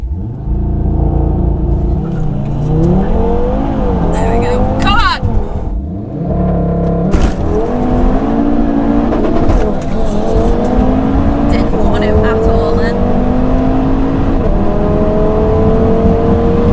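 Two Audi TT RS cars, a 435 bhp Mk2 and a 455 bhp Mk3, rev loudly and accelerate hard side by side in a drag race, engines climbing through gear changes with a brief tyre squeal and voices talking under the roar.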